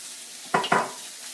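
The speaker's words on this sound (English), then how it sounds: "Sear the spices in real good." Spice-coated food seared in a hot pan gives two quick bursts of sizzle or scraping in close succession, then returns to a faint background hiss.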